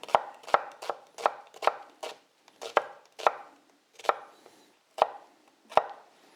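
An onion being chopped with a knife on a board, a series of about fourteen crisp, close knife strikes in an uneven rhythm with short pauses between them, and no talk.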